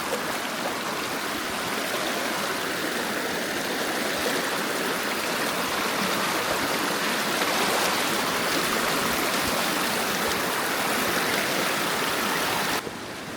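A creek in Petit Jean State Park, Arkansas, on the trail toward Cedar Falls, rushes steadily over rocks. The close, loud, unbroken water noise continues throughout with no voices.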